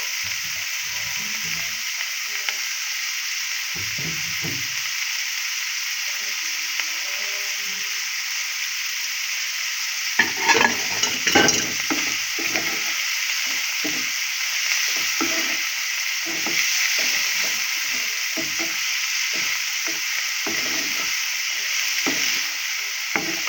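Shredded cabbage stir-fries in a hot pan for schezwan fried rice, a steady loud hiss running throughout, with scattered spatula scrapes and knocks growing busier in the second half.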